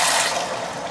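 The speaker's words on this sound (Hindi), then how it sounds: "इसमें मैंने 1 कप पानी डाल दिया" A cup of water poured onto sugar in a cooking pot while making zarda, sweet rice; a loud, close, continuous splashing pour lasting about a second, with no talk.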